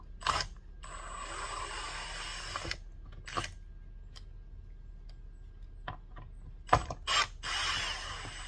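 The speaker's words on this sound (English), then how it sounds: "Let's get these 4 screws out of here." A ratchet backs out screws from a Brinkley Z 3110 Bluetooth dimmer switch cover, giving close bursts of rapid clicking spread across quiet pauses, with a louder flurry near the end.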